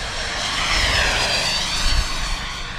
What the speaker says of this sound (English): Bring it down the runway here for a fast pass.